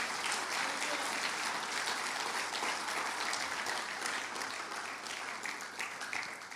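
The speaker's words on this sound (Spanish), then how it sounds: "¿Cuántos le dan un aplauso al Señor," A church congregation applauds, giving a steady, fairly faint wash of clapping that tapers slightly toward the end, with no voices standing out.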